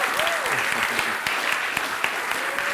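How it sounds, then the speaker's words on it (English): Audience applause after a hackathon presentation, a steady round of clapping with a few sharper individual claps and faint voices and cheers in the mix. "Again, one more round of applause for James and LightFood."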